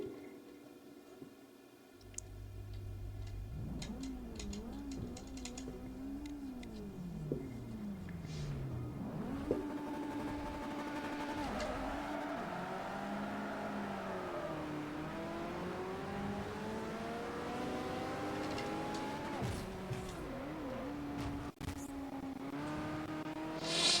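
A race car engine, a 2011 RUF in Forza Motorsport 4, revs loudly and continuously, its pitch climbing and dropping through repeated gear shifts across the whole stretch.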